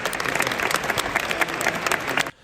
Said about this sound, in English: you'll have people over here that are clapping